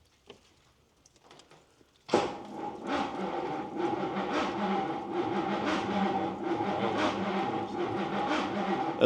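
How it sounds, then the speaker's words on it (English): A cold 20-foot Daimler Majestic Major limousine's Hemi V8 cranks and catches, then settles into a steady, loud, close rumbling idle after a few quiet seconds of clicks and ignition noise. "So we just turn the ignition on."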